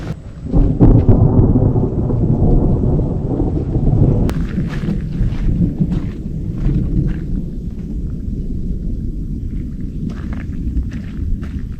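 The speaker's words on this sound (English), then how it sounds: "Rain and thunder." Deep rolling thunder rumbles over steady falling rain, loud and close at first, then easing into a lower drawn-out growl with rain continuing.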